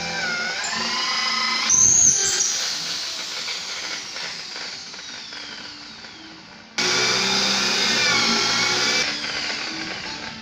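A power drill bores a hole through a wooden crossbeam of a Tiki 38 catamaran, a whining, hissing drive that fades away and then returns abruptly loud near the end, close by with no talk.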